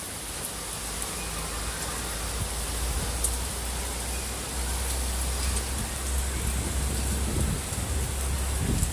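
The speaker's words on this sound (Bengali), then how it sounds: "বিশাল জোরে বৃষ্টি হচ্ছে, বিশাল জোরে।" Heavy rain pours steadily through a storm, a dense, loud, continuous roar of water on surfaces, with no one talking.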